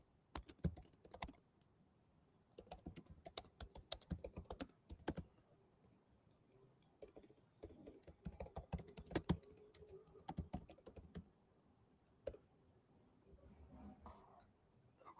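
Close, quiet clicking of a computer keyboard as someone types a prompt in uneven bursts of rapid keystrokes separated by short pauses.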